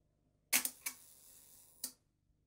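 A vintage Zeiss Ikon Contaflex's mechanical leaf shutter fires with a close, crisp burst of clicks, a second sharp click just after, and a final snap about a second later in an otherwise quiet room.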